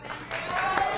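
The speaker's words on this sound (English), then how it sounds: "Jed gets a very polite round of applause from everybody for scooping it" A brief, polite round of applause from players around a poker table at Club One Casino, moderately loud with a soft, dense texture of hands clapping.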